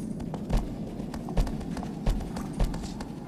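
Horse hooves clip-clop in the video game Shadow of the Colossus, a handful of soft, evenly spaced hoofbeats over a low ambient bed, fairly quiet.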